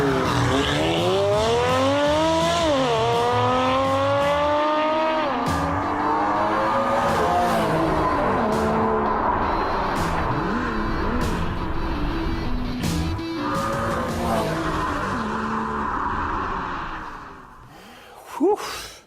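A modified Anibal Automotive Design performance car drives hard, its engine revving up and down in long sweeps as the tires squeal and skid, loud and close before the sound tails off near the end.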